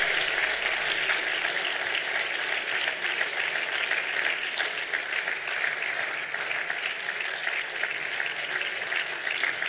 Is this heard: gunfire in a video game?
no